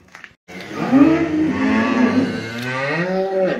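A pregnant cow close to calving gives one long, loud, close moo on a farm during afternoon chores, a drawn-out lowing call that rises and falls over about three seconds, heard alone.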